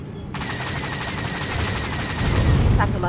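Rapid starfighter blaster fire in Star Wars: The Old Republic Galactic Starfighter, a dense continuous rattle of shots that grows louder toward the end, with a voice briefly audible.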